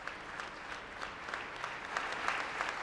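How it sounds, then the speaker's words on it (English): An audience applauds after a Maliseet tribal chief's State of the Tribes address, with steady, fairly distant clapping that swells slightly toward the end and no talk over it. "As we hear applause"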